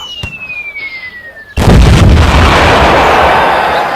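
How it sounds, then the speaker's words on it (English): A comedic sci-fi bomb detonation: a descending whistle and brief blips give way to a sudden, very loud explosive blast that roars on and slowly decays, with no voices. "Quickly, Luigi, detonate the unreality bomb."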